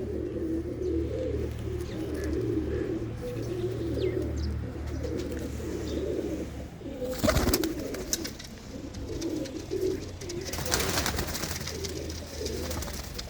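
Soft, throaty pigeon coos repeat in low rolling phrases, close by and steady, with a couple of brief rustling bursts of wing flaps.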